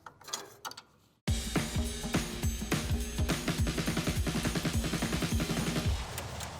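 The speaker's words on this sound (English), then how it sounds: "I'm using a 15mm wrench to break them free, and I'll use a ratcheting end" A ratcheting wrench backs off 15mm nuts from the lower brace of a Porsche 996. After a short quiet start, a long run of steady, rhythmic clicks follows. The clicking is close and crisp, with no voices.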